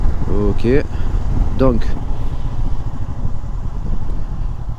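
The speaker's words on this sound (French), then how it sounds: "Je vais rouler à bas régime et on va voir si elle a de la reprise avec des rapports engagés, mais à bas régime" Honda CB 500 X 2023 motorcycle engine running at low revs, a steady low drone throughout, with someone speaking briefly over it near the start.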